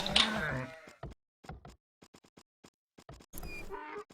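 Sheep in the Age of Empires strategy game bleat loudly once at the start, followed by scattered short clicks and knocks, with a second brief bleat-like burst near the end.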